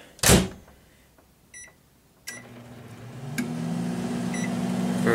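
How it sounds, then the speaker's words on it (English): A microwave oven is started: a loud door clunk, a few faint beeps and a press, then the steady hum of the running oven that grows slightly louder and continues to the end. "put it in the microwave."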